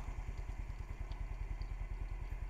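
A motorcycle engine idling as it warms up before a ride in Cavite City, a close, steady low thumping putter at an even rhythm, with no talking.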